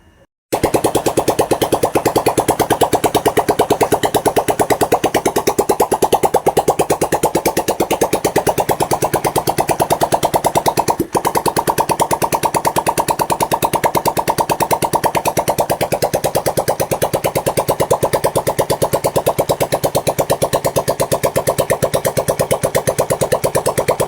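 A Honda TMX 155 motorcycle engine, fitted with a battery-operated 4-pin CDI in place of its contact point, starts and runs steadily for the whole stretch, a loud rapid idle with one brief dip midway.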